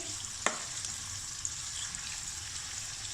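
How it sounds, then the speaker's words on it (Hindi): Chicken pieces fry in about seven tablespoons of hot oil for a karahi, a constant loud sizzle with a sharp clack of the stirring spoon near the start. "हमने चिकन को अच्छी तरह से फ्राई करना है।"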